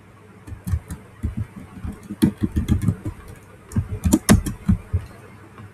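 Typing on a computer keyboard while writing CSS code: clusters of quick, close-up keystroke clicks come in short bursts separated by brief pauses, with no talking.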